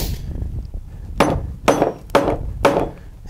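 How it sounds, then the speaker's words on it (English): A metal ring is hammered down onto the wooden handle of a hand-forged draw knife, four solid close blows in an uneven rhythm, each a sharp thwack with a metallic edge. "and hammer it down on the tool."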